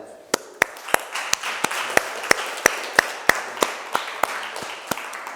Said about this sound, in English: So let's give a round of applause to our family member.